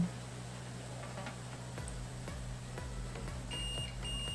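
A thin, high electronic beep from a Samsung slim 21-inch CRT TV with a shorted vertical IC sounds steadily in the last second over a hum and repeated ticking clicks.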